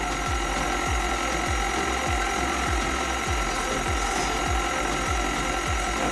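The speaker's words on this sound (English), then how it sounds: "So you can turn your mixer on low speed and then slowly just add your milk and your yeast mixture" Stand mixer churning hot cross bun dough on low speed, a steady mechanical whir with a regular rhythmic thumping of the beater turning through the heavy dough, loud and continuous throughout.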